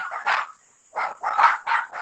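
A dog barks in several sharp, loud bursts, a short pair, a pause, then a quicker run of three barks, close by with no talking.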